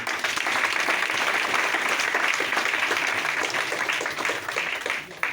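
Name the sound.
audience applause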